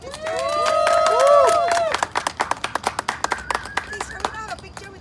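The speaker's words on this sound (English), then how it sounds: "your heartiest applause for the newlyweds" Guests at a wedding break into applause for the newlyweds, a swell of clapping and cheers that thins into scattered individual claps, with a voice speaking over the start.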